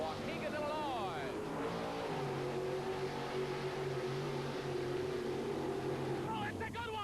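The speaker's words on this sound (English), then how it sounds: "A spectacular race through the mud." An off-road mud-racing truck at the 1989 Four-Wheel & Off-Road Jamboree in Winnebago roars through a mud pit, its engine droning steadily at a distance beneath an excited announcer's continuous commentary.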